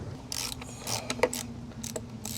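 Bolts being loosened and pulled from the impeller housing of an Evinrude Ficht outboard engine with a wrench: several brief close metallic clicks and ratcheting scrapes over a steady low hum.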